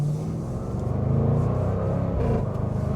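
A 575 hp 2025 Jaguar F-Pace SVR revs and accelerates up close while merging into traffic, its low exhaust note throbbing with a rapid pulsing rumble and crackles.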